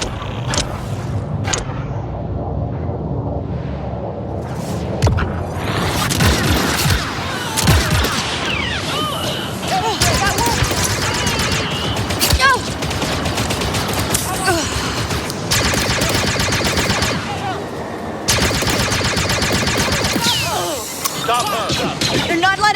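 Sustained blaster gunfire and heavy booms fill a Star Wars Outlaws video game firefight, loud and close throughout, with voices calling out between volleys.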